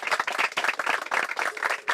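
A group applauds the speakers in a scene from a Yoruba film, many hands clapping close by in a dense, uneven patter that lasts the whole moment, with no speech over it.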